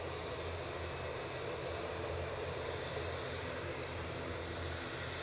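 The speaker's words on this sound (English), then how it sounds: "I feel there's an ATR somewhere to be seen. I can hear it." ATR turboprop aircraft at Edinburgh Airport, a steady distant engine drone and broadband rumble holding level throughout with no voices.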